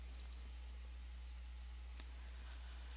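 A computer mouse clicking during an email sign-in, a few faint sharp clicks, one clearer click midway, over a steady electrical hum and hiss.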